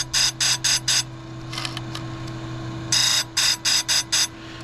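A grinder sharpens the chain of a Stihl 400c chainsaw in short, evenly repeated high-pitched whining bursts, each tooth getting a brief pass, with a steady motor hum beneath and a pause in the middle.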